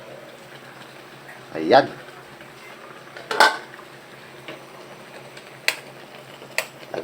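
A metal lid is set onto a cooking pot of saucy sarsyado with egg: two distinct clanks a couple of seconds apart, then lighter taps over a soft simmering hiss, with a brief spoken word.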